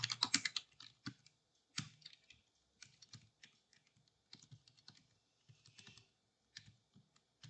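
Typing on a computer keyboard while editing a file in a Linux terminal, quick clusters of close key clicks separated by short pauses, with no talk.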